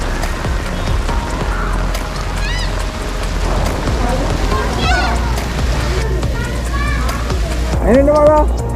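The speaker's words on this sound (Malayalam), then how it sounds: "മഴ എന്ന് പറഞ്ഞാൽ ഇതാണ് മഴ. നമ്മുടെ നാട്ടിലുള്ള പോലെയുള്ള സൂപ്പർ മഴ." Heavy rain in Dubai pours steadily onto surfaces in a dense, continuous hiss, with water splashing and running nearby and scattered higher-pitched sounds over the downpour.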